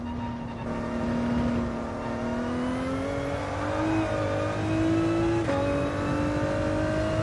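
A Le Mans race car engine in a racing simulator drones loud and steady under hard throttle, its pitch rising gradually, dipping briefly at a gear change, then climbing again.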